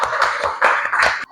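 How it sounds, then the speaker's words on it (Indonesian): Applause for a student named Enci in a school classroom lesson: a rhythmic run of brisk, evenly spaced claps from a group, fairly loud and close, stopping abruptly near the end. "Berikan tepuk tangan untuk si Enci"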